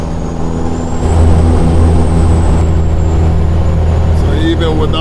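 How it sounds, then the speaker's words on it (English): Loud truck engine droning steadily inside a tunnel at night on a mountain descent, heavy low rumble with rising intensity and a faint whine overhead, reverberant and continuous throughout. "this truck just sounds crazy under the tunnel"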